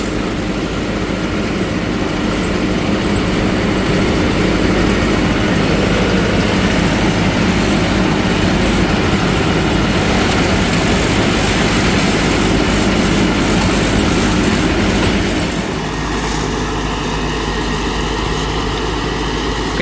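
A heavy Deutz-Fahr Agrolux 80 CRDI tractor engine runs steadily and loudly while driving a PTO mulcher through banana plants, a constant low roar with a slight change in tone near the end.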